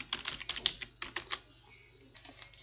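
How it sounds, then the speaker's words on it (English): Light, quick keystrokes on a computer keyboard come in two short bursts separated by a pause, quiet and close. "Open your browser and write down here google.com"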